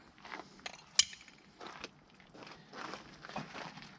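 A ratchet wrench clicks during front brake and wheel bearing work on a 2005 Chevy Tahoe, a few faint, uneven close clicks and mechanical ticks with one sharper snap.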